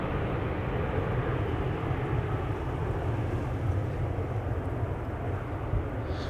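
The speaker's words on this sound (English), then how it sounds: "KLM flight 1269 to Copenhagen, 737-800" A KLM Boeing 737-800 bound for Copenhagen at Amsterdam Schiphol Airport gives a steady, broad jet roar that holds at an even loudness throughout, with no voices over it.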